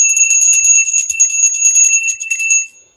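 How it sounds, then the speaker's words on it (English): A bright metal bell rings repeatedly in a quick, shimmering series of strikes, sustained high ringing tones that stay loud and close before fading out at the end. "My bell's gonna be named Ramona"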